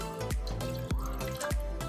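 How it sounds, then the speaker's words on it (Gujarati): Water is poured into a pan for masala tea, heard as a few close, quiet drips and splashes repeating every half second or so, with no voices. "એક કપ જેટલું પાણી એડ કરશું"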